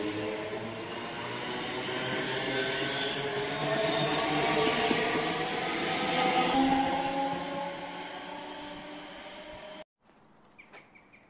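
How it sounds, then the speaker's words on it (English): An HST diesel train from Perth to Glasgow Queen Street passes through Croy station, a sustained rumbling roar with droning engine tones that swells and holds, then drops off abruptly to quiet platform ambience. "So we have a HST from Perth to Glasgow Queen Street."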